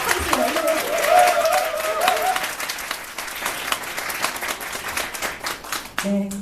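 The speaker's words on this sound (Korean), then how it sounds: "박수 시작하겠습니다." An audience at a book concert bursts into sustained applause, a dense wash of clapping from a large crowd that stays strong throughout, with a brief tone and a voice near the end.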